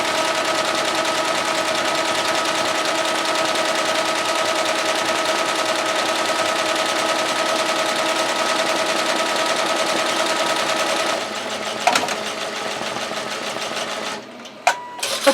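Embroidery machine stitching lettering on a tote bag, with a steady rapid mechanical chatter that runs continuously before stuttering into irregular jerks and stopping near the end.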